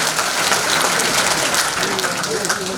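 A rally audience at a Korean patriotic resolution gathering gives a loud, dense round of applause. The clapping is close and continuous, holding steady for nearly three seconds.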